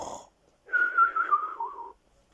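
A voice imitates a sleeping tramp's snore, a single drawn-out whistling, wheezy breath lasting over a second, close and clear in otherwise quiet surroundings.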